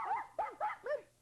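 A small dog barks four times in quick succession, close and clear, each bark a short yelping bow-wow with brief gaps between them.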